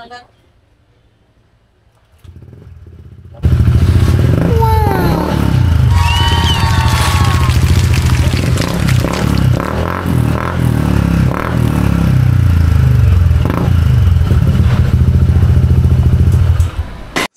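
A Honda ADV 160 scooter fitted with a Yoshimura R77 exhaust bursts into a loud, close engine drone that holds steady with rattling and clatter, while a person talks over it.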